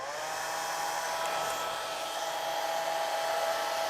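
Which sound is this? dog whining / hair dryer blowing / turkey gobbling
hair dryer blowing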